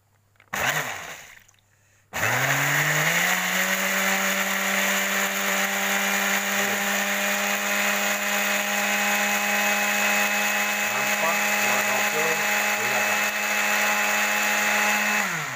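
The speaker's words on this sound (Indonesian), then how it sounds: "Lalu kita blender." An electric blender whirs a homemade herbal honey drink at a steady, loud, high-pitched drone after a short start-up burst, running continuously for over ten seconds.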